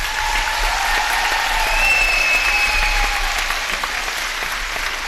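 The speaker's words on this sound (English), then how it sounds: "Ladies and gentlemen, one more round of applause for our" A gym crowd at a high school volleyball senior night applauds a Wapahani Raiders senior, loud, sustained clapping from many hands with a few faint whistles or cheers mixed in, no talking over it.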